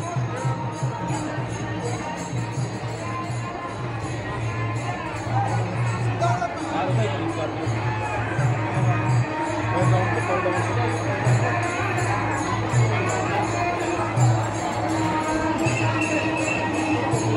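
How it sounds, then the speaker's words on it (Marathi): Crowd of pilgrims on a foot procession (dindi) from Padaghe to Mahad, a continuous hubbub of chatter and voices with rhythmic drumming beats running underneath, fairly loud and close. "काय सर तुम्ही बघू शकता किती गर्दी आहे"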